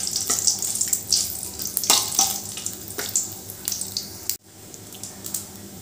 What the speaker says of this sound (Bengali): এবার ফোড়নটা একটু ভালো করে ভেজে নেব।